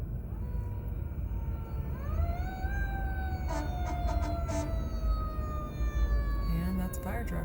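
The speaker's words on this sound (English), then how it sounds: "And that's a fire truck." A fire truck siren wails and sweeps upward in pitch, holding a long steady tone over constant street noise, moderately distant and continuous with faint talk mixed in.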